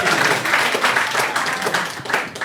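Audience applause in a steady, fairly loud wash of clapping with a few louder bursts, brief and continuous without voices on top.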